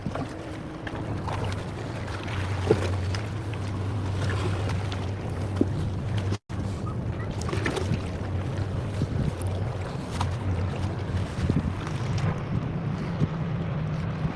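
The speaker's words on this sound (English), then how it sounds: "Nice breeze, not too bad now." Steady wind blowing on a beach in warm, clear weather, a continuous rushing wash with low rumble and waves, constant level throughout, no talking.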